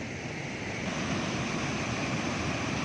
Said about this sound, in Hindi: यहाँ पे उस पानी की जो फुहार है, जो बुखारात बन के उड़ रहे हैं, वो चेहरे से टकरा रहे हैं